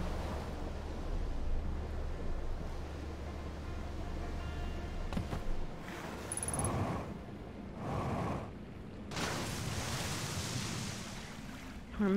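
Water splashes and washes around a raft moving in the Outer Wilds video game, a steady rushing wash that swells into several louder surging bursts.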